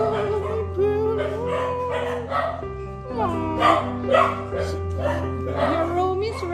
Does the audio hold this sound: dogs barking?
yes